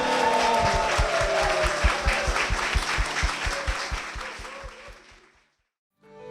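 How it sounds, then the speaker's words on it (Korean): A church congregation applauds in praise, a rhythmic, unified clapping that holds steady and then fades out. A held organ or keyboard tone sounds underneath, followed by a brief silence. "주님께 영광의 박수를 드리겠습니다."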